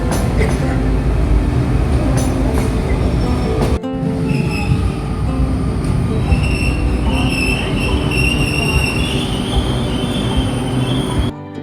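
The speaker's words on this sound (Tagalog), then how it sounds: "LRT na yan. Sakay na tayo sa ibabaw." Riding an LRT light rail train in Manila: loud, close rumble of the moving car with squealing wheels and rhythmic track clatter throughout.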